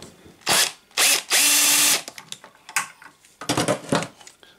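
A power tool unscrews the handle of a miter saw in short, loud whirring bursts. After a longer burst comes a string of quicker ratcheting taps and brief spins.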